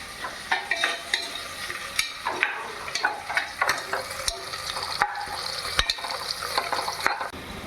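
Sliced onions and green chillies sizzle and fry in a pan for mutton biryani while a spoon stirs and scrapes through them in irregular strokes, close and steady with no voices.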